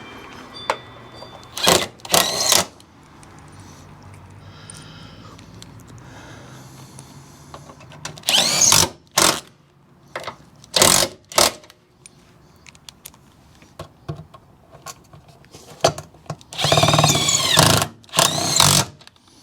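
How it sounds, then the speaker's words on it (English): Power tool driving body bolts back into a Jeep Wrangler, heard as several short, loud whirring bursts separated by quieter pauses and faint handling noises. "So now we'll put the 3 body bolts back in."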